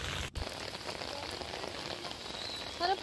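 Heavy rain comes down suddenly, a dense steady hiss of drops striking surfaces, fairly faint and continuous with a brief break near the start.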